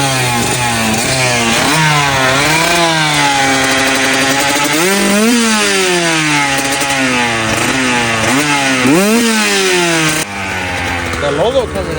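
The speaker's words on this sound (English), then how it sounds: "That bike ain't never seen those RPMs in its life." KTM dirt bike engine revved hard at high RPM, loud sustained wail with repeated rising and falling pitch sweeps close by, ending abruptly near the finish.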